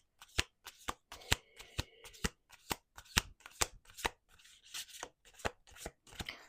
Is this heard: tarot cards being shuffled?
yes